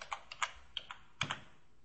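Light, sparse keystrokes tap on a computer keyboard while a category name is entered, a handful of quiet clicks in an irregular rhythm, close and faint.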